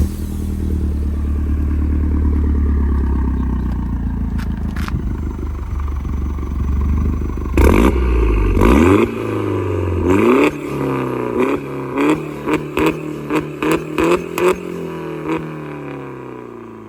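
A Peugeot 208 GTI with a stage 2 tune and its exhaust valve fully open: a deep, loud idle rises into sharp revs, followed by a rapid string of crackling pops and burbles as the engine drops back.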